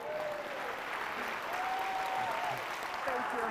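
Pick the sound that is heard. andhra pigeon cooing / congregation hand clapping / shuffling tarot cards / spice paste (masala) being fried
congregation hand clapping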